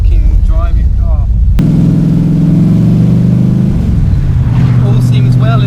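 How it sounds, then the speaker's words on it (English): An AC Cobra sports car pulls away after a fuel pump repair, its engine droning steadily and loudly with a low rumbling tone that shifts as it drives on, with a brief voice at the start. "Ah, look at a working driving car."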